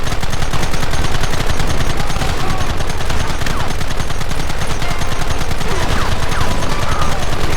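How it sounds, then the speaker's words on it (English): Rapid gunfire in the video game Red Dead Redemption, dense continuous bursts of shots filling the whole stretch, loud and steady like machine-gun volleys with no pauses. "Open fire!"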